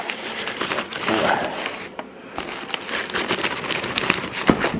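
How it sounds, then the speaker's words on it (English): Bubble wrap and a plastic bag crinkle and rustle as packaging is handled while unboxing a 1978 Bally Night Rider pinball machine, a continuous close crackling with brief pops and a short pause midway. "Bubble wrap. And a plastic bag here."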